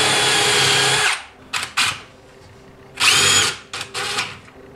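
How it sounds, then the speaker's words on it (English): A countersink bit on a power drill bores into wood for a camper dinette, cutting pilot holes for 3.5-inch screws: a long loud whine, several short bursts, then another sustained run with brief follow-up spurts, with no talk. "Now I take this countersink."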